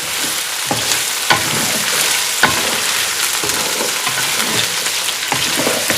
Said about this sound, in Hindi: अब प्याज के साथ थोड़ी देर इसको पकाएंगे